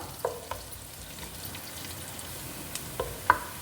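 Garlic frying in oil in a pan for chicken fried rice, a steady close sizzle with a few light clinks of stirring.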